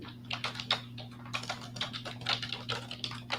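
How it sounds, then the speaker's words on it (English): Quick bursts of keystrokes on a computer keyboard, irregular clicking taps at close range over a low steady hum, with no speech. "Is someone typing a question?"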